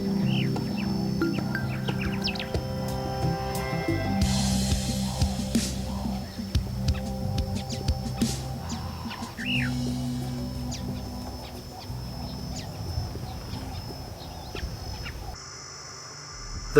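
A roller bird calls in the Kalahari at Kgalagadi Transfrontier Park, South Africa, with scattered short chirps and calls over a steady low rumble, moderately loud, with no talking.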